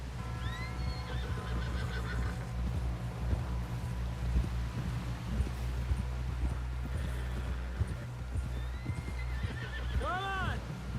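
In Red Dead Redemption 2, a horse trots with steady clip-clop hooves over wind noise, whinnying several times, loudest near the end, while someone speaks faintly.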